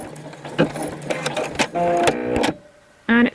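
Home embroidery machine stitching in short mechanical bursts, with a whirring needle run, brief pauses and a final quick burst, close and fairly loud.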